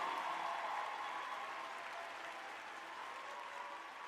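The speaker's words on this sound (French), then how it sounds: "Est-ce qu'on peut applaudir encore une fois pour Jules, s'il vous plaît?" An audience applauds Jules after a free-singing performance on a talent show stage, a steady wash of many hands clapping that holds evenly for several seconds without talk.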